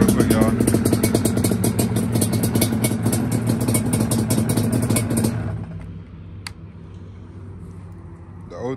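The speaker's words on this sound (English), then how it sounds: "let me cut the bike off real quick" A 1992 Yamaha Banshee fitted with DMC 916 pipes idles with a loud, rapid two-stroke burble, then cuts off about five seconds in, leaving quiet room noise and a faint click.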